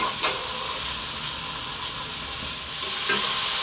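Chopped onion and garlic frying over medium heat in a pan give a steady, even sizzle with faint hissing, a couple of soft clinks near the start and end, and no voices.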